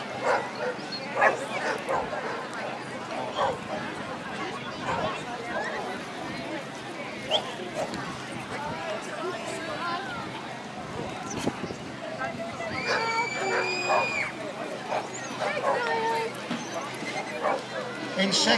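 Several dog barks and yips ring out amid a noisy crowd at an outdoor family fun day prize-giving in Hazlehead, Aberdeen, with people chattering throughout and a few sharp high whistling tones later on.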